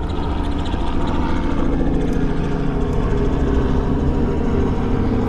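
An aircraft passes overhead as a loud, steady engine drone, continuous throughout and masking other sounds, with no talking.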